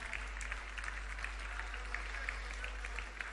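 Audience at a university convocation applauding awardees, steady sustained clapping from a large crowd at moderate distance, with a faint low hum underneath.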